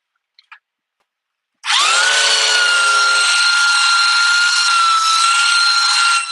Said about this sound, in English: Just gotta sand a little more.